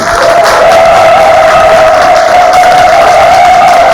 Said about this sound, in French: Applaudissements pour Rachel Xavier.